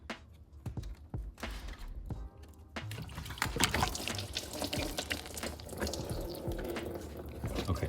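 Coolant from an Audi Q5 2.0T drains out of a hose into an oil pan, with a steady close splashing and gurgling pour that begins in irregular spurts and then settles into a continuous stream.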